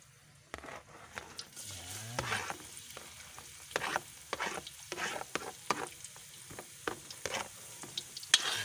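Onions sizzle and fry in a hot pan while a utensil stirs them in repeated scraping strokes, a close, steady crackle with a low hum behind it.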